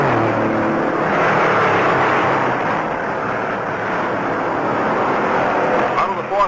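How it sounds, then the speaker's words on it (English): Stock cars at the 1960 Daytona 500 roar down the backstretch as a field of 68 at about 150 mph, a loud, sustained engine drone that swells slightly near the end, with a narrator talking over it. "Roaring down the backstretch, 68 cars play follow the leader at 150 miles an hour."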